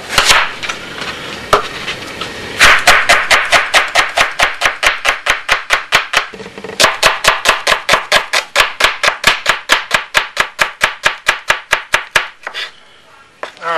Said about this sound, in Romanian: ne apucăm la tocat ceapa